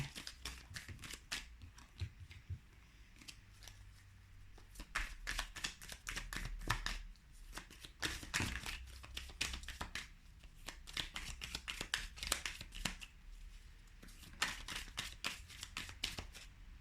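A deck of tarot cards is shuffled by hand nearby, giving rapid bursts of riffling and flicking card noise in uneven runs with brief pauses, fairly quiet and without talk.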